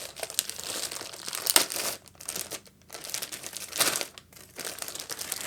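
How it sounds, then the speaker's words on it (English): Akai MPK Mini MK3 keyboard being pulled from its plastic wrapping, with close crinkling and tearing of plastic in several bursts and short pauses between them, and no talking. "Let's go ahead and pull this out of the side from here. And then out of the plastic."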